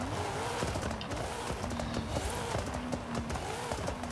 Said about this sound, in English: Got those pops on there, which is kind of crazy to hear on this older muscle car.